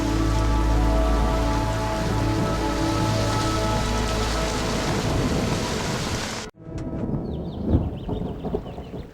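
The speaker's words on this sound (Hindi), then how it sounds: "ओए, बारिश आ रही है, जल्दी से छाता ले आ।" Heavy rain pours down steadily in a loud, dense roar that cuts off abruptly, followed by a softer patter with scattered drips and a few bird calls.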